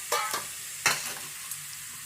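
Vegetables such as ridge gourd, tomato, ginger and garlic are dry-roasted in a pan without oil, giving a few brief scraping stirs and a faint sizzle.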